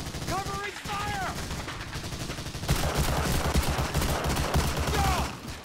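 Sustained covering gunfire on the Omaha Beach level of the Medal of Honor Allied Assault game: rapid, dense rifle and machine-gun bursts that swell louder about halfway through, with brief whistling tones early on over the constant battle din.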